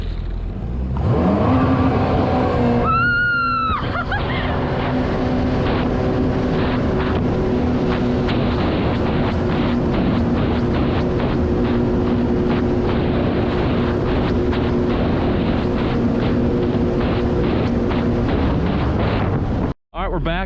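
A 2021 Yamaha GP1800R SVHO jet ski pulls hard at full throttle, its engine holding a loud, steady drone after a quick rising whine at launch, with wind buffeting the microphone and brief voices over it.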